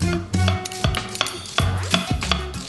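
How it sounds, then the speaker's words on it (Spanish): Sharp knife strokes chop through onion on a board in a home kitchen, a few crisp irregular thuds close up, with faint dish clatter between cuts and no talk. "Vamos a cortar un poco de cebolla primero."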